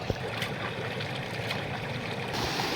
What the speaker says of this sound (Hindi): हमें ये झरना मिला है साफ पानी का